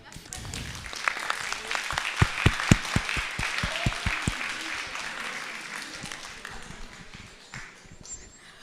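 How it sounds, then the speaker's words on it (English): Applause from an event audience at a live-streamed kick-off evening, with a few loud, close individual claps standing out in a rhythmic run over the crowd clapping before it thins out, voices mixed in. "Voilà, donc on peut l'applaudir."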